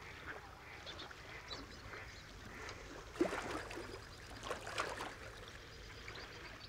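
Faint duck-like quacks and calls from waterfowl in the Villafafila wetlands salt flats, scattered and distant over a soft, steady outdoor background.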